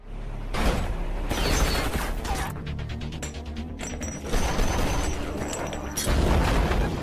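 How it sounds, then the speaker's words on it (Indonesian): Bomb explosions boom and crackle repeatedly over a dense, rumbling background, with sharp impacts recurring throughout. "Mendengar bunyi ledakan itu"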